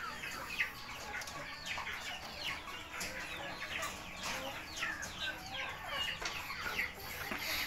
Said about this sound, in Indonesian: Ini ayam cemani ya.